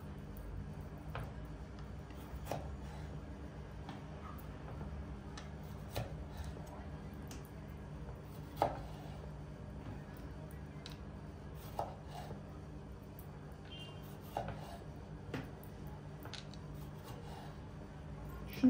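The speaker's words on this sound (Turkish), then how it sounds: "Çok inceleri ikiye ayıracağım. Büyükleri şöyle 4 parçaya." Knife cutting chicken-shish vegetables such as tomatoes and peppers on a board, small pieces halved or quartered: scattered soft chops and taps at an irregular rhythm, fairly quiet and close, with a low background hum.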